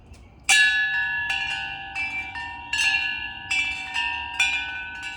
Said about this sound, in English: Here's one of the wind chimes my husband made.